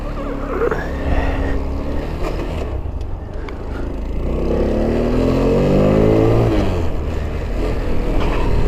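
A Honda Grom clone motorcycle on a test ride, its small engine droning loud and close, easing off around the middle and then rising in pitch as it accelerates again.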